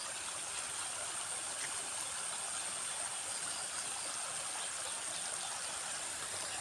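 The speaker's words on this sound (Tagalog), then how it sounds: "umaagas na, umaapaw na yung tubig sa kanyang bunganga" Water from a spring flows and spills over its mouth in a steady, even rush, continuous and moderately close with no voices.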